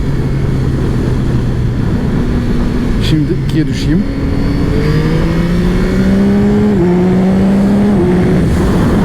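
A Yamaha XSR900GP motorcycle engine roars and climbs through the revs, its airbox intake roar prominent, pitch rising and stepping down between gears, with someone briefly speaking over it.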